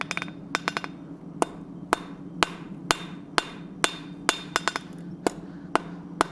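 A blacksmith hammers hot metal on an anvil, drawing out material for a loop on a forged Christmas gift: sharp ringing strikes in an uneven rhythm, some quick doubled blows, fairly close and alone without talk.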